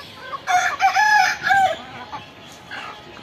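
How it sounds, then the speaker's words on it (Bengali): A desi rooster on a small backyard poultry farm lets out a loud, close crow with a rising and falling call, followed by softer clucking from the flock. "অলরেডি আপনারা শুনেছেন আমার মোরগের ডাক।"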